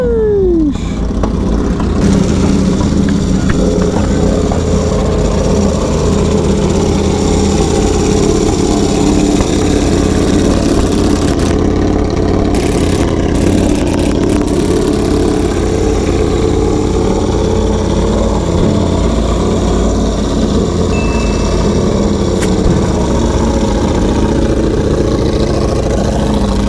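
A 2023 Ducati Panigale V4R motorcycle engine runs close and loud, a steady idle with rising and falling revs that sweep through its tone, with no talking over it.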